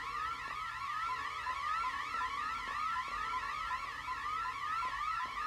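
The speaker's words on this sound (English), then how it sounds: "I triggered some alarm" A wailing electronic alarm blares in the Backrooms video game, set in an endless office maze. It loops in steady, rapidly repeating rising sweeps, loud and continuous throughout, with faint thuds underneath.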